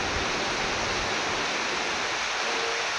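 A downpour drums over a Jessore village by a fish pond, a close, constant broadband hiss of heavy rain that stays loud and even from start to finish with no voices.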